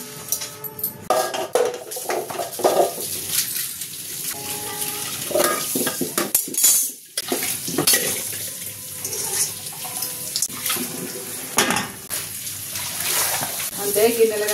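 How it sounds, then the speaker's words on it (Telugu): Dishes, pots and cutlery clatter and scrape in a kitchen sink under a running tap, a busy, continuous wash with water splashing throughout and brief talk mixed in. "అందుకనే ఇలా అన్నీ కడిగేసుకుంటున్నాను గిన్నెలో"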